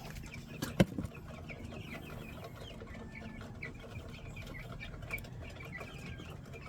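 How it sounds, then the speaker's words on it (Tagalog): Hubbard broiler chickens in a coop cluck softly and intermittently over a low murmuring background, with one louder close call near the start and scattered faint clucks after it. "dagko-dagko na to mga manok"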